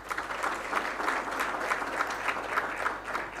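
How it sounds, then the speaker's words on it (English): Audience applause at a university event marking a mining engineering partnership, a steady round of moderate clapping from a sizeable group heard from some distance, continuing evenly throughout. "please give them a round of applause too"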